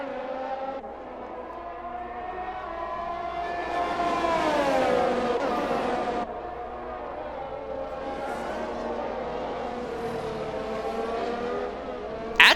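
Race cars in an F1-style video game roar past in close succession, engines whining and rising in pitch as they accelerate down the straight, with a continuous layered drone of several cars and no talk.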